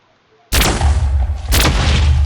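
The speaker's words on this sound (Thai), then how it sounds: "มีปืนนะ มีปืนเราลองมายิงกันเลย" Two loud gunshots from a gun in a Minecraft 1.7.10 Black Widow mod, spaced about a second apart, each a sharp booming crack with a long ringing tail, close and alone.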